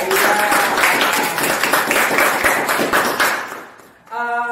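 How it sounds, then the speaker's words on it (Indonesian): A studio podcast audience applauds loudly and steadily for several seconds, the clapping fading out before a brief tonal sound at the end. "penonton yang di sini bisa tepuk tangan dulu ya"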